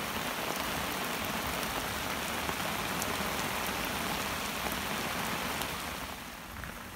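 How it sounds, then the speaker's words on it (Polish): Heavy rain drums densely and continuously on an umbrella close by, a loud steady patter that eases slightly toward the end. "deszcz mocno uderzał w parasol"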